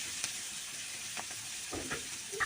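Pieces of fat frying in a pan with turmeric and salt give a soft, even sizzle, faint and close, broken by a few brief stirring clicks near the end.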